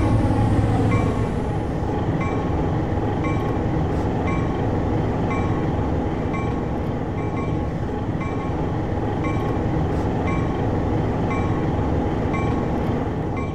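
A simulated AB set of Alco PA diesel locomotives in Trainz 2022, moving through the station throat at Kansas City Union Station, gives a steady, loud engine drone and rail rumble that holds throughout with no voices.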